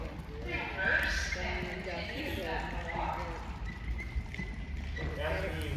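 Horses walking at a horse show, their hooves making soft, irregular clip-clop steps throughout, mostly underneath people talking nearby.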